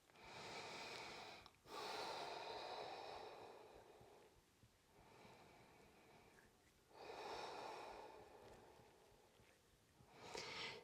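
Slow, deep breaths taken while holding chair pose in a standing yoga flow, two long airy inhale-exhale cycles, fairly quiet and close, with no talking.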